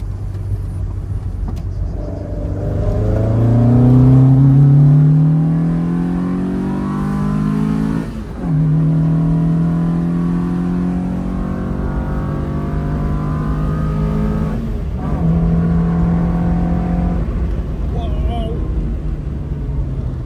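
A prepared Citroën AX Sport's engine revs and accelerates close by, pitch climbing through several gear changes with brief dips between shifts.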